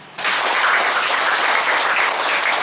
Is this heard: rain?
no